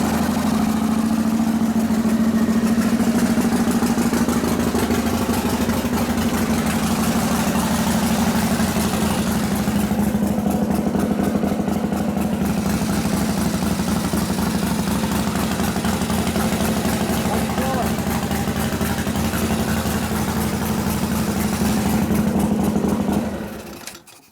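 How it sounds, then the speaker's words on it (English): A Harley shovelhead stroker big-bore motor on a new FL bike build starts and settles into a loud, steady, lumpy idle close by, running alone for over twenty seconds before it is shut off. "I want to start the bike up."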